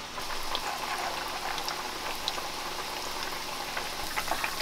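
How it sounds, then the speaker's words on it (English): Thai fish cakes frying in hot oil over medium heat, a steady, fairly quiet sizzle and crackle with small pops scattered through it and no voices. "The oil should be hot, but not supposed to be too hot because all in the ingredient have sugar."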